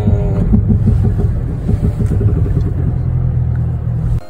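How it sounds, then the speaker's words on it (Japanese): Rapid clicking pulses from the electronic traction control of a Land Cruiser 250 driving off-road in auto mode, over a steady low engine rumble inside the car, evenly spaced, ending abruptly near the close. "この音が A トラで電子制御で走らせてるって証拠になります"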